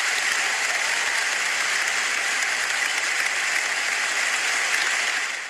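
An audience bursts into steady, dense applause at a live show, loud and continuous with no talking over it, tapering slightly at the very end.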